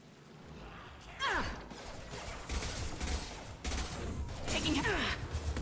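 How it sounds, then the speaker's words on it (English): Heavy high-impact gunshots from the sci-fi shooter Mass Effect 2, a few loud booming blasts with whooshing tails spread over several seconds amid ongoing game combat noise, with a voice murmuring in the background. "Firing a high impact shot."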